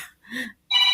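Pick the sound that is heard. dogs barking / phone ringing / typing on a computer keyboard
phone ringing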